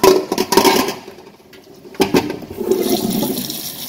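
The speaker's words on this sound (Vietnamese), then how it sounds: "Rửa đi rửa lại 3 nước nhé" Corn cobs with their husks being rinsed under running tap water, a steady splashing stream with a few louder gushes and clatters, close and alone without talk.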